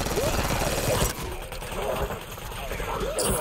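Enemy gunfire in Call of Duty: Black Ops 6, dense rattling shots and loud battle noise near the start, then quieter scattered shooting under a player's voice.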